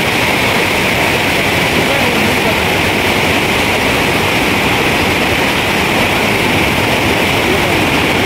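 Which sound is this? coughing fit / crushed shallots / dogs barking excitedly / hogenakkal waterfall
hogenakkal waterfall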